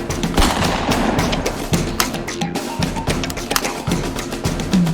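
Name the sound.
gunshot sound effects during shooting practice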